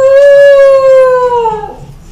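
A West Highland White Terrier lets out one long, loud, close howl that slowly falls in pitch and fades away after about two seconds.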